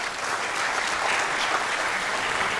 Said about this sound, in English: Once again, a round of applause for Mr. Heiber.